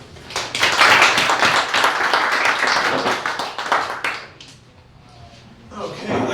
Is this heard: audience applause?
yes